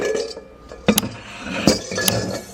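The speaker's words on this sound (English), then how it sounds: "I'm gonna put his attachments in the mixing bowl." Metal mixer attachments clink and clatter into a mixing bowl in a few sharp, close knocks, with a brief rattle between them.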